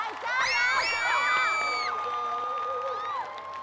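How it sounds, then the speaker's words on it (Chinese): An audience at a dance show screams and cheers in high, sustained shrieks and whoops that rise and fall, loud and close, with shouting voices layered throughout the crowd noise. "大家给我们点尖叫声好不好？"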